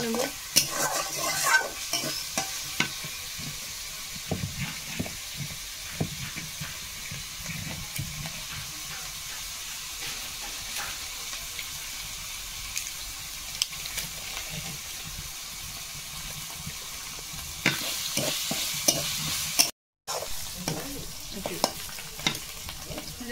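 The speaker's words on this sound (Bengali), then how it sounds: "পেঁয়াজ আর রসুনটা এখন আমি ভালো করে ভেজে নেব" Onion and garlic paste frying in a pan for a crab and bamboo shoot dish, a soft continuous sizzle broken by frequent scraping stirs, close and fairly quiet, with a brief silent gap near the end.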